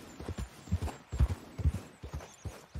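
Horse hooves clip-clop in Red Dead Redemption 2, a steady run of paired thuds repeating at a walking pace, close and moderately loud with no talk over them.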